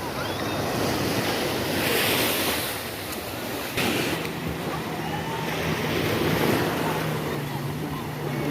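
Sea waves roll and break on a beach while wind buffets the microphone, a loud continuous wash with surges, and a low motor hum enters partway through.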